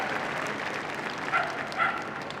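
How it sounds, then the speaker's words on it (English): Audience applause fills the arena at the Crufts dog show after an agility team relay, a steady low wash of clapping throughout with a few dog yips rising briefly near the middle. "Give them all a big round of applause."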